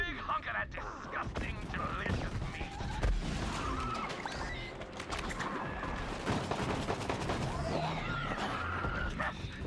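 Shotgun fire in Borderlands 3: dense, repeated gunshot blasts and crashes of a chaotic firefight, loud and close, with voices talking over the battle.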